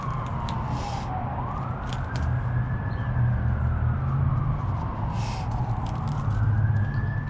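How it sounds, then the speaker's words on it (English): A siren wails up and down in slow sweeps from an emergency vehicle passing through town, moderately distant, over a steady rumble of traffic. "Sorry about the sirens, folks."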